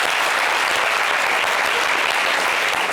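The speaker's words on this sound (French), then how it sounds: "Acclamation" An audience breaks into applause, a dense, even wash of clapping at steady loudness that fills the short stretch without pause.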